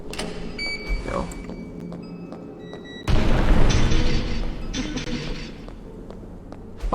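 A bomb explodes in Nightmare Reaper, a sudden loud boom midway that rumbles on for about a second before fading into mechanical game sounds.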